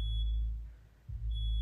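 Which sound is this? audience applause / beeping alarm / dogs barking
beeping alarm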